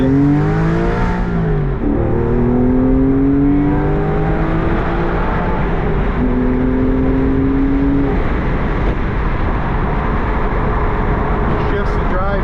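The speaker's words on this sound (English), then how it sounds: "Got the sport exhaust on loud." A 2005 Porsche 911 Carrera 4S Cabriolet with the factory sport exhaust set loud revs and shifts while driving, engine tone climbing and dropping through gears under someone talking.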